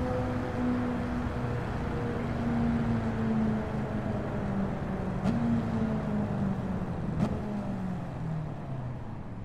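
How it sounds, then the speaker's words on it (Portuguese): A 1970 Plymouth Superbird engine, 848 horsepower, idles steadily in Gran Turismo 7 with a low, rumbling drone, two brief sharp clicks cutting through midway; no one speaks. "Barulho desse carro,"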